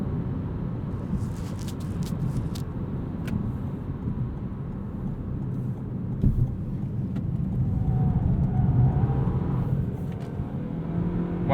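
A 2020 Toyota Corolla in sport mode accelerates through a 90-degree corner, its engine a steady low rumble that swells slightly toward the end, heard from inside the car at moderate loudness.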